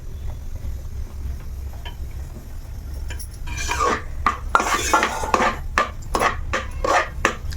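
Ragi flour being stirred into a cooking pot for ragi mudde, heard as close scraping and clattering strokes of a spoon against the pot. The strokes start partway through, come in an uneven rhythm and sound alone with no talk.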